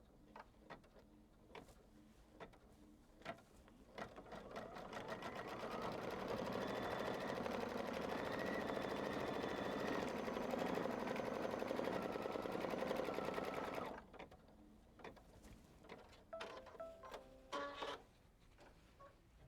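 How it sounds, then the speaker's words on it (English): Embroidery sewing machine stitches a placement line on quilt fabric: a steady, fast mechanical whirring rattle that ramps up, runs continuously for several seconds, then stops, with scattered clicks and taps around it. "we're gonna go to our machine, stitch the placement line"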